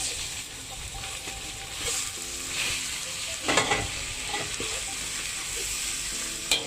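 Minced pork sizzles and fries in a hot wok with leafy pak choy, a continuous crackling hiss broken by a few sharper scrapes and stirs, close and fairly quiet, with no talking.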